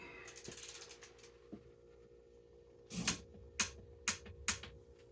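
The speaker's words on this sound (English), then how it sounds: "It's me trying to get a torque wrench into a" Faint mechanical fiddling, then a handful of sharp ratcheting clicks close by from a torque wrench on a Stihl MS460 chainsaw cylinder bolt, four or five in quick succession near the end.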